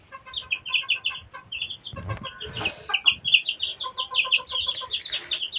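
Young Tiger breed chickens about sixteen days old peep and cluck in a rapid, busy chorus of high chirps, close by, with a few scuffling bumps among the birds.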